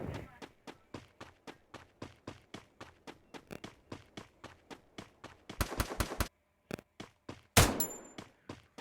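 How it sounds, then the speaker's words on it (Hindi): Rapid, evenly spaced gunfire in the Free Fire battle royale game, a steady stream of sharp shots followed by denser bursts and a final loud blast near the end, with no talking. "हम पे फायरिंग भी किया था उसने, हम उस पर फायर करते।"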